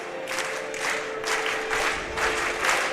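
A big crowd at a high school basketball tournament game claps in continuous rolling waves, dense and fairly loud, filling the gym without any clear voices.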